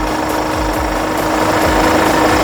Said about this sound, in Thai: สตาร์ทง่ายมากเลยค่ะ เครื่อง แน่นๆฟิตฟิตแห้งๆแบบนี้เลยนะคะ